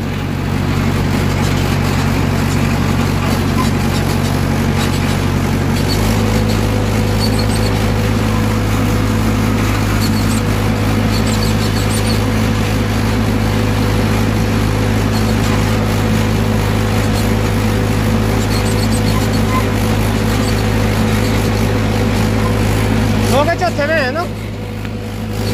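A Mahindra 585 XP Plus tractor engine running steadily in fourth gear, a loud continuous low diesel drone close by that shifts to a slightly different pitch partway through and stays constant for the rest.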